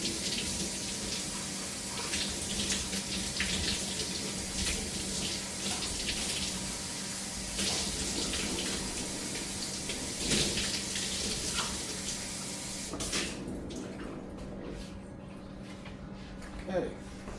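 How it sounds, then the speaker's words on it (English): Tap water running steadily into a reptile water dish being rinsed, a constant splashing hiss for most of the stretch before it stops near the end, leaving quieter handling clatter; a person talks over it. "I'm gonna rinse that again, okay?"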